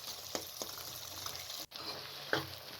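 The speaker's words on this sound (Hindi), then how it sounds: "तकरीबन 4 से 5 मिनट तक आपने इस तरीके से भूनना है।" Mashed eggplant for baingan bharta fries in a pan with a soft, steady sizzle, broken by a few light scraping stirs and one brief pause, fairly quiet and close with no talking.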